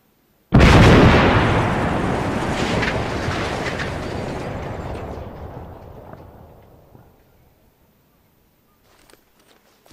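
A large demolition charge goes off in one sudden blast, loud and close, followed by a long rumbling roar that slowly fades over several seconds into near silence.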